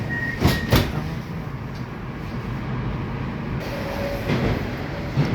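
Moscow metro train running, a loud steady rumble and rattle of carriages in a tunnel with sharp metallic squeals and clacks near the start, heard from inside the car.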